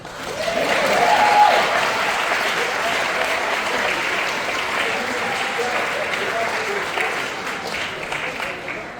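Dinner audience at a commencement event breaks into sustained applause and cheering for Egypt, dense clapping from a full room peaking early then holding steady for several seconds.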